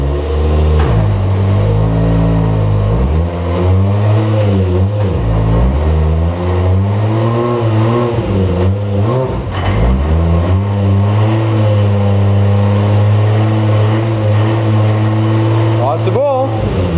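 A Toyota Chaser fitted with a GT86 differential is driven up through the gears. The loud engine climbs in revs and then drops at each shift, again and again, while people talk over it.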